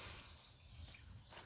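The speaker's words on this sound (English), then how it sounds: "add water to our water basin" Water pours and drips into the water basin of a meat smoker outdoors, set over a sustained fire for smoking homemade bacon; a faint, low trickling and dripping against quiet background.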